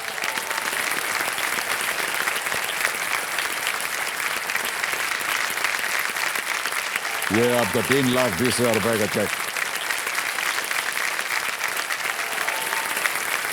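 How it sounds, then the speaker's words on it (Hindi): Studio audience applauding steadily on the KBC Season 14 game show, a continuous wash of clapping under the host's speech, with a brief musical sting partway through. "तालियां बजती रहें इनके लिए।"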